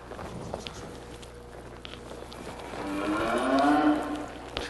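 A cow lows during horse cutting practice, a long rising moo building near the end over a steady outdoor background with light hoof and footstep noise.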